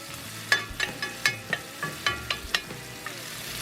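A ribeye steak sears in a hot pan, a close sizzle punctuated by a regular series of sharp spitting pops or scrapes, roughly a dozen over a few seconds, with no talking.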